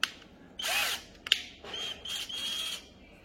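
A cordless 12V drill-driver runs in short bursts at its second speed, a close high whine that starts and stops several times, with small clicks between runs.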